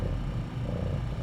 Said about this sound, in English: She's purring so loud as she tries to kill the scratching post.